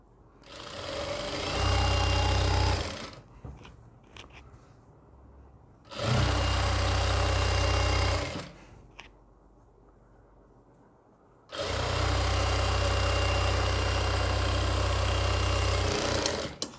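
A sewing machine stitches a designer gown in a boutique, running in three loud, close, buzzing bursts, the last one longest, with quieter fabric handling between runs.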